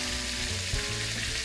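Duck breast fillet fries in a pan with a loud, continuous crackling sizzle, close up and steady, with a faint knock from the pan midway.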